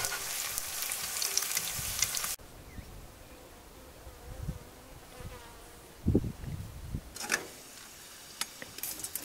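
Chops, tomatoes, potatoes and onion frying at a campsite: a loud sizzle for about two seconds, then quiet outdoor air with scattered low knocks and bumps, then the sizzle returns near the end.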